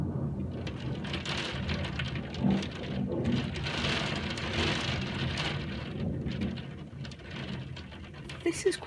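A thunderstorm with hail and rain in England during an April snowfall, with steady rain and ice pattering on surfaces and low thunder rumbling, while a person speaks over it.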